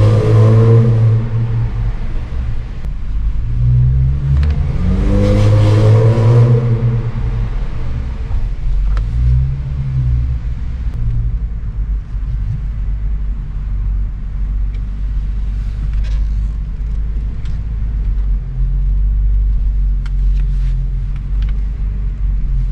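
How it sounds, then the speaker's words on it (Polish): An Audi S4 B8 engine rumbles with a low, droning exhaust that vibrates, swelling in a couple of revving surges early on before settling into a steady, close idle-like rumble. "Wibruje ten wydech, trzeba go definitywnie na przelot zrobić."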